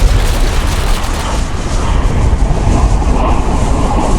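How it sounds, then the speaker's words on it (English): The 1974 Christmas Eve cyclone in Darwin, Australia, heard as a loud, continuous roar of wind with rumbling gusts and broadband noise, dense and unbroken throughout. "This is the noise of the cyclone."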